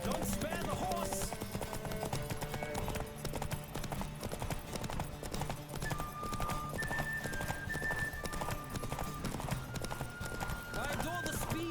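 Hooves pound in a steady rapid clip-clop as a horse gallops in a race in The Witcher 3 video game, with whinnies and overlapping voices throughout.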